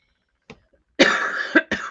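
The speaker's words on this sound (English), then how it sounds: "I apologize for my cough" A woman coughs during an interview, a faint catch followed by a harsh, sustained cough and then two short sharp bursts, close to the microphone.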